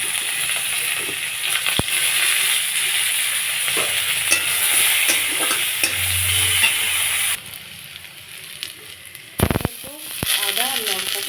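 Whole cumin seeds, chopped onion and chopped garlic fry in oil for a pangas fish curry with yard-long beans and potato, a loud steady sizzle broken by stirring clatter, with the frying easing off late and a few knocks.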